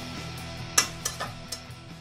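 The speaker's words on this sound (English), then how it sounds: "Give them a nice stir." Light clinks and scrapes of a utensil stirring vegetables for biryani in a pot, a few soft irregular knocks with quiet background between them.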